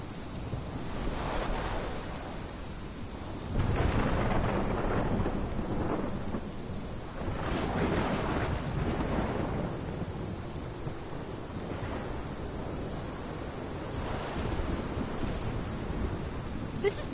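Thunderstorm in the video game Life Is Strange: steady heavy rain hisses throughout while rolling thunder rumbles swell several times, loud and close, with no voices.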